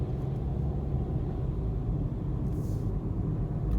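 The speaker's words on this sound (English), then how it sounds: "So let's see what happens when I press the accelerator gently" A Suzuki Baleno accelerating gently through the gears, heard from inside as a steady low engine and road rumble that holds even and continuous throughout, with no talk over it.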